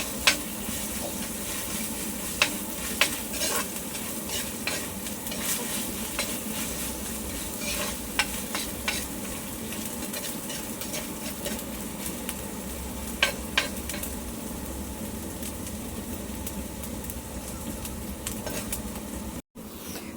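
Ginger and garlic frying in a home kitchen pan give a steady, faint sizzle throughout, with occasional soft clicks and scrapes of stirring, no voices present.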